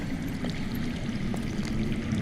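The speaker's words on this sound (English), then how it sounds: "I hear water." Steady underground water flowing and pouring in a Game of Thrones Telltale game scene, a continuous moderate rush with faint trickling detail and no talk.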